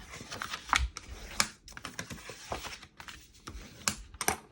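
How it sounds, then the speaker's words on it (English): A run of dry scraping and tapping strokes from a bone folder burnishing paper folds, irregular and close, with short pauses between bursts as the paper is pressed and rubbed. "let's burnish all those lines with your bone folder"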